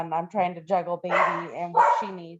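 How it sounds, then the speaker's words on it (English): Dogs bark in short, loud yaps close by, several in a row, mixed with a voice speaking over them. "I'm sorry about my dogs."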